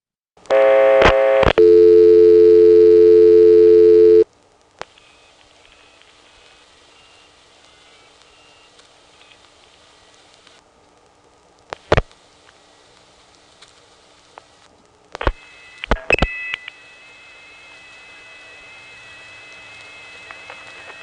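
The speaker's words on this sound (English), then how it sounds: "dial 493 from the Occoquan Central Office one more time" A telephone call dialed from the Occoquan central office in Prince William County, Virginia, beginning with a loud, steady two-tone burst, then a long quiet line broken by sharp clicks and pops, ending in a faint sustained tone.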